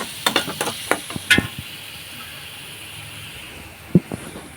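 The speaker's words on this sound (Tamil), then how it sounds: "இப்போ வந்து ஃபிஷ் ஃப்ரை பண்ண போகிறோம்" Fish frying in a pan gives a faint, steady sizzling hiss, broken early on by a cluster of quick utensil clicks and one more sharp tap near the end.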